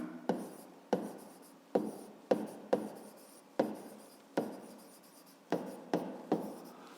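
A pen or pencil writes a math formula by hand on paper, giving about a dozen sharp taps and scratchy strokes, close and quiet, with no voice.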